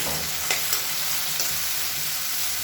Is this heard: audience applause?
no